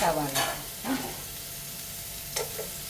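Onions dropped into hot cow ghee for a king fish biryani, frying with a loud close sizzle and a few bursts of stirring and scraping, no voices.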